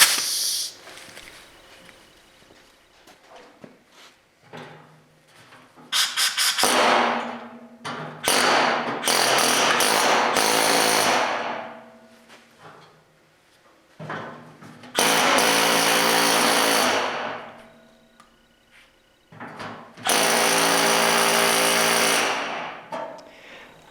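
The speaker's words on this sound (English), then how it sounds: "the air hammer isn't going to be very effective" A pneumatic air hammer rattles loudly against sheet metal in four long bursts while repairing a 1937 Chevy truck door skin, separated by pauses with faint clanks and handling noises.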